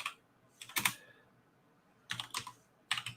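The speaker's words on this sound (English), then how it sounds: "I can't even type right now." Bursts of rapid typing on a computer keyboard, two quick clusters of key clicks separated by quiet pauses, close and fairly soft with no talking.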